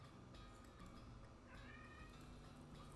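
Cartoon cat meowing in the West of Loathing video game, a few faint drawn-out mews rising over a steady low game background hum, with no talk.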